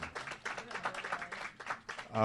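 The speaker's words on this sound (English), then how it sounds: "Give him a nice round of applause." Applause from an audience greeting a man introduced at a community gathering; dense, continuous clapping with uneven swells fills the whole stretch at moderate level.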